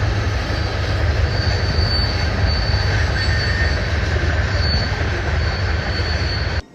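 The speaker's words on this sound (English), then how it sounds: "I got jump scared by a long hood Ford SD40N" A long hood Ford SD40N locomotive hauling a train rolls past close by, a loud, steady rumble of wheels and cars with a high metallic wheel squeal running through the whole pass.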